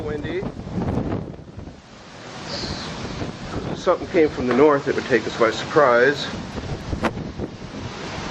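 Strong gusty wind during a storm in Lindsborg buffets the microphone in a steady roar, with someone talking over it.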